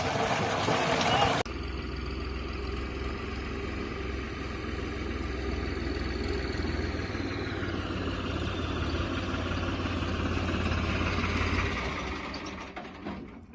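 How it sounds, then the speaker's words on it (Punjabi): A water-pump electric motor, newly fitted beside a vegetable plot, starts after a short burst of noise and settles into a steady, close, droning hum that runs on until it fades near the end. "ਮੋਟਰ ਗਈ ਚੱਲ ਆਪਣੀ"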